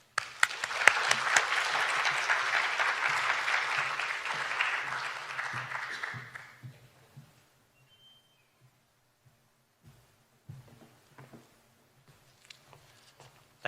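Audience applauding to welcome historian David Cecelski at a talk on Charles Farrell's coastal photographs: steady, dense clapping for about six seconds, then fading out to scattered footsteps and small room noises.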